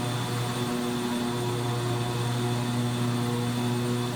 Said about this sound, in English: The airplane is still up and running.